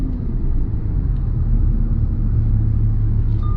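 A Lamborghini Huracan Spyder's engine starts and settles into a deep, steady rumble, heard close and fairly loud without pause and with no talk over it.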